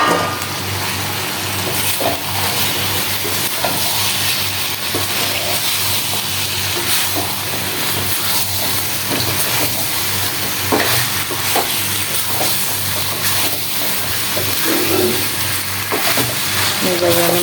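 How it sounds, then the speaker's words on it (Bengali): Fried meat and potatoes being stir-fried with spices in a pan, producing a loud continuous sizzle and hiss with scraping spatula strokes, steady and close for the whole stretch. "এইভাবে আমি মশলার সাথে একসাথে একেবারে মাখাই নেব মাংস আলু"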